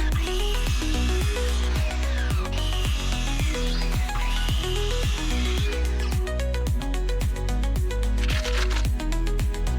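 Wooden lumber being cut for a half-lap joint gives off rapid, evenly spaced crackling strokes, close and steady, repeating a few times per second throughout.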